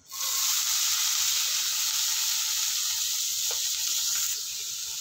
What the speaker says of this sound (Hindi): देखिए तेल हमारा गरम हो गया अभी इसमें हम छोटा छोटा कट किया हुआ प्याज आलू और परवल के बीज को डाल देंगे